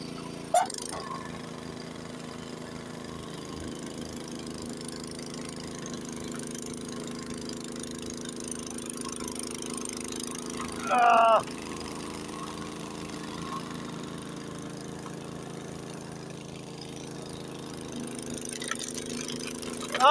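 A Honda HS80 snowblower engine runs steadily through snow during a Lake Tahoe storm, a close, continuous mid-pitched chug with a brief louder scrape partway through.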